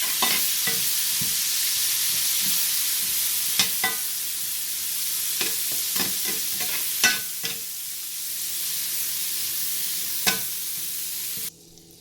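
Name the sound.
broccoli tossed and frying in garlic butter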